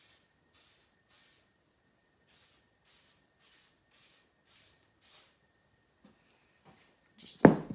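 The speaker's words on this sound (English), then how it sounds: "I'm just going to spray that chain down now with some" A series of short WD-40 aerosol spray bursts onto a Stihl MS261 chainsaw chain in a steady rhythm, faint and hissing, followed by a louder clunk at the end.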